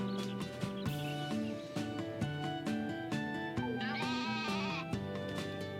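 A goat in Harvest Moon: A Wonderful Life lets out one wavering bleat midway through, heard over bouncy looping game music that plays throughout.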